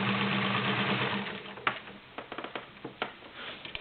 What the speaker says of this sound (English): This is 6 layers of denim using a size 16 needle.